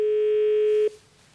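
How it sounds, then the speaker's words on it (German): A telephone dial tone on a German line after dialing a hotline number, a steady continuous hum sounding loud and alone before cutting off abruptly, followed by faint line noise. "Da ist das Amt, das Freizeichen."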